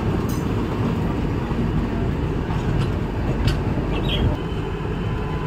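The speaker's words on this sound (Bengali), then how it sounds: "আলিপুরদুয়ার টু গুয়াহাটি ট্রেন এই যে ক্রস করছে" The Alipurduar to Guwahati train passes close by near Kamakhya, a loud continuous rumble and rattle of rail cars rolling along the track, steady throughout with faint squeals and clanks above it.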